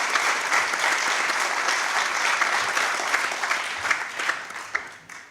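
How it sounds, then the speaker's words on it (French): An audience at a conference in the French National Assembly claps steadily throughout, a dense roomful of applause that tapers slightly toward the end. "je vous demande d'applaudir"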